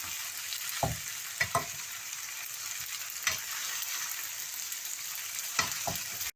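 Noodles for chicken chow mein stirred slowly in a frying pan, with a steady hiss of frying under a few soft scraping strokes, close and fairly quiet.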